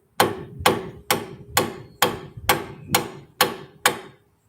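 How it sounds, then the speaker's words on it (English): A hammer knocking an angle kit part into place on a Foxbody Mustang: nine sharp, evenly spaced metallic strikes, close and loud, with no talking. "Probably would help if you go ahead and tap it in there with a hammer."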